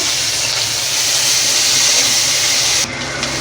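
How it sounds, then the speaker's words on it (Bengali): Chopped onion sizzles in hot oil with panch phoron in a pan, a loud, steady, hissing fry that drops off slightly near the end. "পেঁয়াজটা একটু লাল লাল করে ভেজে নেব"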